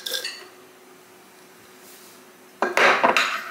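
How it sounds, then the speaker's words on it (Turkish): Granola spooned over chia pudding in a glass: an opening clatter of spoon against glass, a quiet stretch, then a loud close burst of scraping and clinking as the granola is scattered on top. "Şimdi bunun üzerine bir kat granola koyacağım."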